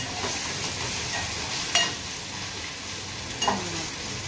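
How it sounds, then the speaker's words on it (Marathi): Chopped onion frying in a pan until brown, a continuous close sizzle with a couple of brief stirring scrapes, no talking. "कांदा थोडा ब्राऊन करून घेणार."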